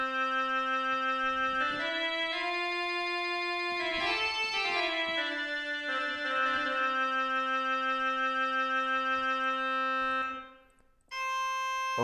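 A rare 16-foot crumhorn reed stop on a two-manual American Classic pipe organ, played with tremolo: sustained buzzy reed chords with a wavering pulse, moving through several changes before a brief break and a fresh held chord, with no talking.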